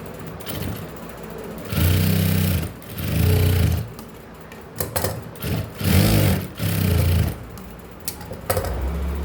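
A sewing machine stitches a blouse seam in short, loud whirring bursts of a couple of seconds each, separated by brief pauses and fabric handling, close up.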